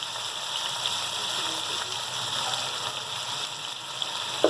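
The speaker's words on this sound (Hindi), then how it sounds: "ये 1 गिलास पानी ये मैंने डाला है" A glass of water poured into khichdi, a soft, steady hiss of running liquid and faint sizzling, low in level and alone.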